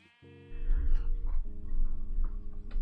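Sheep bleating in modded Minecraft 1.12.2, a game sound of a couple of drawn-out bleats heard up close over a steady low hum, with no talk.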